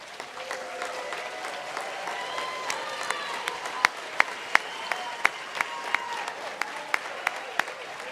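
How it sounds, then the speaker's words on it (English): A graduation hooding ceremony audience breaks into sustained applause, a dense wash of many hands clapping in a large hall with several sharper nearby claps standing out. "let them feel your gratitude with a round of applause that reverberates from San Marcos all the way to the Hill Country"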